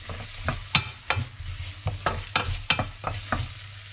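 Red onion and ginger sizzle in a hot pan, with quick scraping stirs of a utensil in an uneven rhythm, close and fairly quiet.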